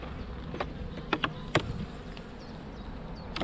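Honey bees buzz steadily around an opened hive during the first inspection of the season, a dense close drone broken by a few sharper passes of individual bees near the listener.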